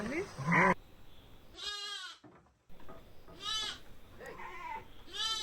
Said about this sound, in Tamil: ஆட்டுக்குட்டியை தூக்கிட்டு வந்துட்டாருன்னு அம்மா ஆடு ஒரே சத்தம் போடுது